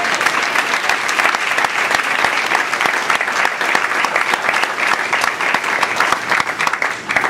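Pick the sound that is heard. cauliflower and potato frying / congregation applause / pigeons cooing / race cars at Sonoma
congregation applause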